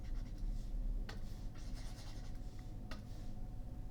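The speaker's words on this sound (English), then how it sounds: "Let me erase this." Writing being erased from a board during a maths lecture, a soft continuous scrubbing with a few sharper strokes, faint and close, with no talking over it.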